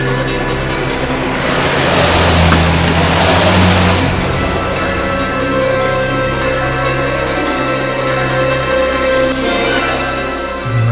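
A car idling and moving at night outside Borivali National Park, a broad steady engine rumble with tonal hum, louder in the first few seconds then settling, with no speech.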